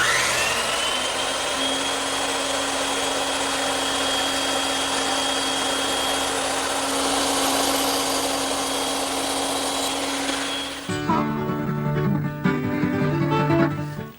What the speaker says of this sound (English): Now I just have to trim up the tenons using the bandsaw.